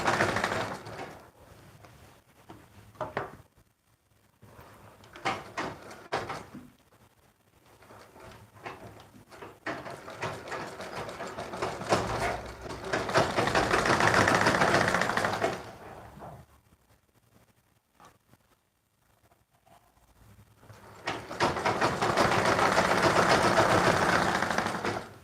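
A sewing machine stitches through a double-layer ruffled dress in loud bursts, with its motor running steadily in several long runs separated by quiet pauses.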